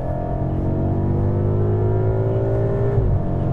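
A BMW X5 V8 engine drones loudly and close from inside the car, a smooth steady hum whose pitch climbs gradually as it pulls, then dips briefly near the end, with no talk over it.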